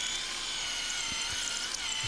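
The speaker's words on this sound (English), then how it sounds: "we're going to drill this out all the way through, so we have one continuous hole throughout the entire" A power drill bores a hole all the way through a Virpil flight-sim throttle mount, making a steady high-pitched whine that holds for about two seconds without pause, loud and close, with no voices.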